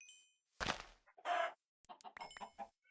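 Several Minecraft chickens cluck in short, separate bursts, close and clear against near silence.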